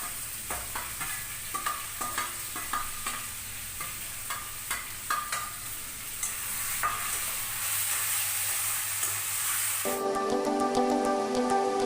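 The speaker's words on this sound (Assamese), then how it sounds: "এইবাৰ মাংসখিনি দি ভালদৰে লৰাই দিম" Chicken meat fries in a pan with turmeric and garam masala as a spoon stirs it in regular scraping strokes over a close, steady sizzle, which grows denser toward the end.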